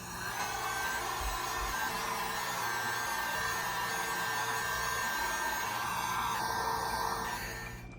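A hair dryer on a hot setting blows steadily onto foam pieces for fake LED torches, a loud continuous whirring rush held close for the whole stretch with a slight change in tone near the end, no voices.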